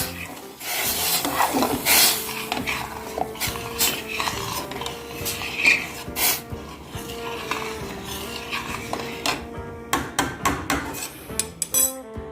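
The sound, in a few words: stirring quinoa and seasoning in a pot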